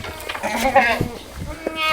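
A young goat kid about a month and a half old bleats in quavering, wavering cries close by, one long call followed by shorter ones, with someone talking nearby.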